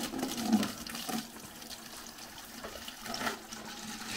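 Running water found along a mountain trekking route in the Peneda and Soajo ranges: a faint, steady trickling flow with soft gurgles and rustling, close by and low in level, no voices.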